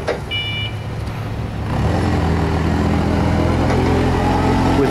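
A 2004 CAT GC20K forklift with cushion tires sits with its engine running in a steady, close idle that grows somewhat louder partway through, with a brief high beep near the start.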